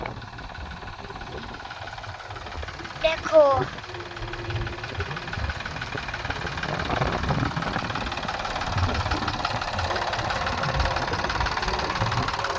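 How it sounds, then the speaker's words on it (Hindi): Mahindra tractors pass along a rural road in the evening. A medium diesel engine chugs and rumbles, building gradually louder toward the end, with a brief rattling clank early on and someone talking over it. "देखो तो अभी फिलहाल यहाँ से ट्रैक्टर निकल रहे हैं।"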